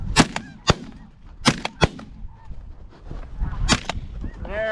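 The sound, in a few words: shotgun firing at snow geese, geese honking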